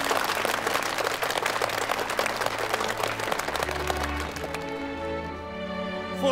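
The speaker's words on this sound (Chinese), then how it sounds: "掌声有请。" An outdoor crowd claps loudly and steadily to open a rural market fair. The applause fades after a few seconds as sustained music rises beneath it.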